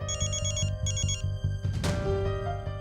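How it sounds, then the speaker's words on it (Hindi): A phone ringtone chimes in a repeating electronic pattern, loud and near, with a brief clattering noise toward the end. "सुमन का फोन यहाँ।"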